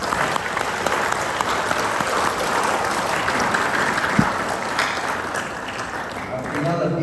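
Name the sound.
applause at school ceremony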